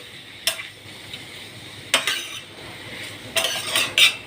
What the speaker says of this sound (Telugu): ఇప్పుడు మొత్తం కలిపేసి మూత లేకుండా స్టవ్ సిమ్లోనే పెట్టుకుని ఒక 5 నిమిషాలు ఫ్రై చేస్తా